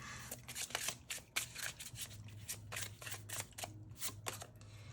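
Tarot cards are shuffled and handled close up in a burst of rapid riffling flicks and papery snaps, quiet and alone with no voice.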